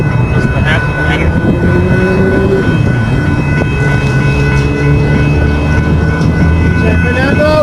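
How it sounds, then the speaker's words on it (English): A Metrolink commuter train rolls slowly past a railroad crossing, a loud rumbling pass with clattering wheels and tonal horn-like hums, while people talk over it near the microphone. "It's moving slow. Metrolink."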